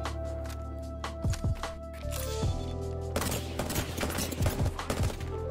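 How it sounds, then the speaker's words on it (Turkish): Gunfire in Apex Legends striking Lifeline, rapid sharp bursts of automatic shots arriving in clusters, loud and close over a steady droning game soundscape. "Şimdi bayağı vurdum lifeline'a"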